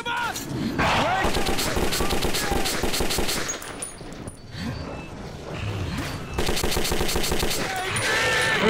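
Bursts of automatic gunfire and repeated shots in the Metro 2033 video game, loud and close and firing nearly nonstop, with a short lull midway before the shooting resumes.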